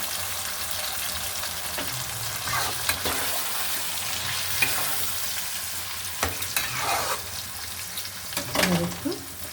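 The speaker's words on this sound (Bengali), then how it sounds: "এবার মাংসটা আমি ঢেলে দিলাম।" Chicken meat frying in a pan with tomato gives a steady sizzle, broken by occasional stirring scrapes and clinks close by.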